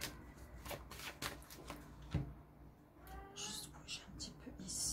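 A cat meows a few times close by, brief mewing calls mixed in with someone talking quietly.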